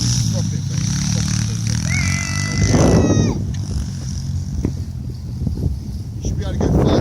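Pit bike motorcycle engines at an outdoor race, revving and whining past with a loud rising and falling buzz over wind noise, while people talk and shout nearby.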